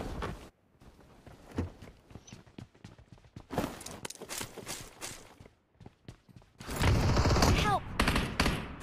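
Video game gunfight in a dark zone, with scattered gunshots, footsteps and a loud burst of rapid fire near the end, under occasional voice chat.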